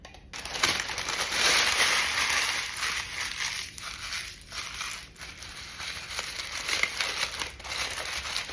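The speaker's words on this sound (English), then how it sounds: "I'm also going to put parchment paper in there." Parchment paper crinkles and rustles as it is pressed into a baking pan for gold dessert bars, a close, continuous crackling that rises and falls in bursts, with no voices.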